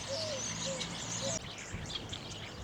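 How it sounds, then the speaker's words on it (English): Starlings call from a hedgerow on a country walk near Boxworth, thin whistling chirps and tweets repeating at a moderate distance over a soft background murmur that fades quieter partway through. "Listen to those starlings in that hedgerow there."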